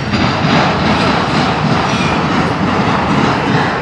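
A long, slow NS or CSX freight train rolls steadily past close by at Fostoria, Ohio, with a continuous loud rumble and a clatter of wheels over the rails, and faint voices now and then.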